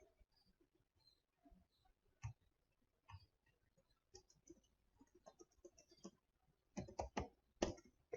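Sparse keystrokes on a computer keyboard, faint single clicks at first, then a quick close burst of typing near the end, with no talking.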